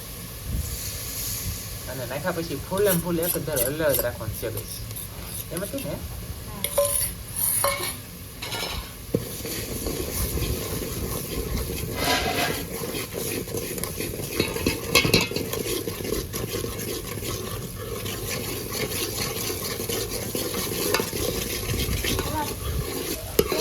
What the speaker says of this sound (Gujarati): તો આપણે ગ્રેવી મસ્ત બની છે ને આપણે નાખી દઈએ ડુંગળીમાં